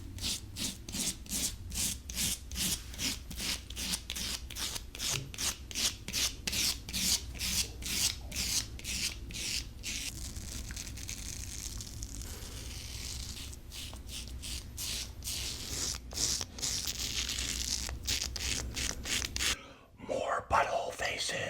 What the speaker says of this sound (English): Shave however you're most comfortable.